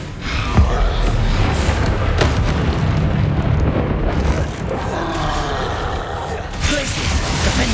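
Spell blasts and magical impacts from Hogwarts Legacy combat on PS5 in a dense, loud, continuous barrage of booms and bursts, with sharper cracks near the start and again toward the end.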